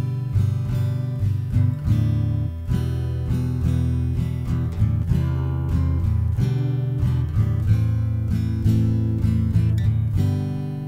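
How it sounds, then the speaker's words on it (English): Acoustic guitar chords for a song lesson are strummed in a steady rhythm, with quick ghost strums across open strings between chord changes, close and continuous with no talking. "you always want to add a ghost strum."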